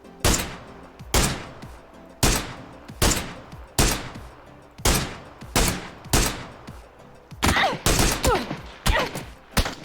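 Bursts of gunfire in the video game PUBG, about a dozen sharp loud volleys in a steady rhythm roughly every second, each fading quickly, with rapid overlapping shots toward the end.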